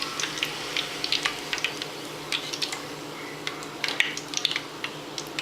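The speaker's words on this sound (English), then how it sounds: "I had it frying here for like a good 5 minutes" Plantain slices fry in oil with a soft hiss as scattered small pops and crackles break through, fairly quiet and close.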